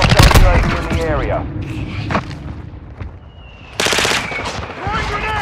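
Heavy machine-gun bursts and booming blasts from a military shooter video game, loud and close, with shouted callouts and voices mixed between the volleys.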